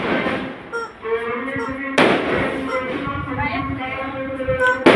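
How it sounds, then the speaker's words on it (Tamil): Firecrackers go off nearby for a temple divine-wedding festival. Sharp bangs burst out midway and again at the end, between softer crackles, while high whining sounds from a golden retriever carry on throughout. "இன்னைக்கு கோயிலில் திருக்கல்யாணம் பக்கத்தில், அதனால பட்டாசு வைக்கிறாங்க."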